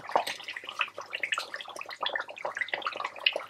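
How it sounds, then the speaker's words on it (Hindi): One cup of water poured into a pot of meat gravy, a continuous splashing, bubbling trickle that stays close and fairly loud for several seconds with no talk. "अब इसमें मैं ऐड करूँगी 1 कप जितना पानी, मैं सिर्फ 1 कप डाल रही हूँ।"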